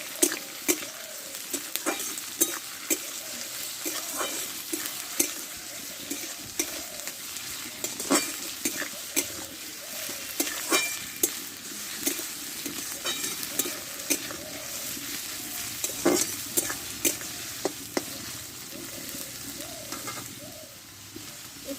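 Tomato frying in a pan with ginger-garlic paste for an okra dish, a soft steady sizzle broken by frequent sharp spatula scrapes and clinks, with pigeons cooing faintly in the background.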